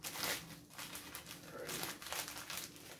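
Plastic shipping bag crinkles and rustles as it is cut open during a tech unboxing, faint and close, with scattered crackles throughout.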